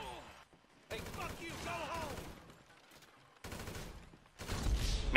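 Rapid bursts of gunfire from GTA V, in broken volleys separated by short pauses, with a louder, closer burst at the end; no one speaks over them.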